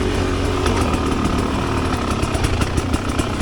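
A Rieju Ranger 300 two-stroke motorcycle engine fitted with an FMF Gnarly pipe, lugging at low revs with a loud, raw, rapid popping exhaust note, close up and continuous.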